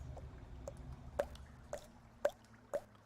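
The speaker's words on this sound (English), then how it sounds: "It's just like this one water droplet goes on" Single water droplets falling one at a time at slow, even intervals, about four or five crisp plinks over a faint low background hum.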